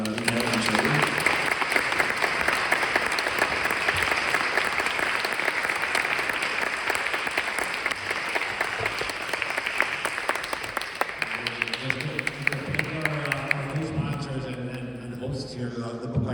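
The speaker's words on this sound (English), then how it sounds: "maybe a round of applause for Mikhael and Shaul" Listeners at a book event with two authors give a sustained round of applause, dense and steady clapping that eases as voices and chatter come up near the end.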